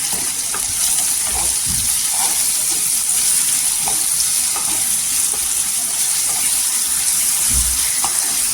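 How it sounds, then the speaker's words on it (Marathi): Onion, green chilli and tomato sauté in hot oil for a dry fish masala, giving a constant close sizzle with occasional scraping stirs and soft knocks. "छान असा तेलावर परतून घ्यायचं"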